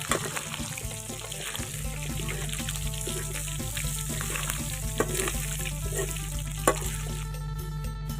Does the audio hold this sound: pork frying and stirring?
yes